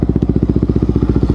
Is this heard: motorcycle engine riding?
yes